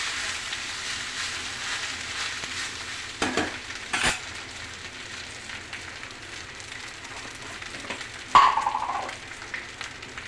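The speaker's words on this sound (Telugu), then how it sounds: "బాండీలో వేసుకొని దాని తర్వాత పైకి కిందకి ఇట్లా మిక్స్ చేస్తూ ఉండాలి" Cooked rice is stirred in a hot frying pan for jeera rice, a steady low sizzle broken by a few scraping and clinking strokes of a utensil against the pan.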